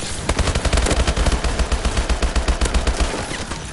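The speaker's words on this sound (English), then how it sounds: "Those akimbo guns are like hitting on my nerves." Dual akimbo guns in Call of Duty: Advanced Warfare let loose a loud, rapid stream of automatic fire, dense overlapping shots rattling steadily close up for several seconds before easing off.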